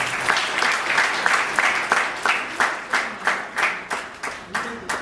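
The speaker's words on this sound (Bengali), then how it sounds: "মানে একটা হাততালি হয়েছে" An audience claps after a stage play, a steady burst of hand claps that settles into a rhythmic beat, with voices speaking over it.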